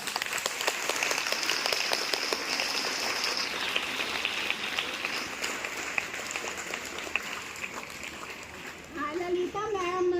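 Students at a school honour ceremony clapping, a rain-like wash of many hands held for several seconds, with a voice coming in over it at the end.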